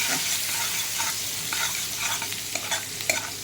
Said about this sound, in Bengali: আমি ধনেপাতা, লঙ্কা কুচি, চিলি ফ্লেক্স, মিক্স হার্ব এগুলো সব মিশিয়ে দিলাম বাটার আর অয়েলে মিশিয়ে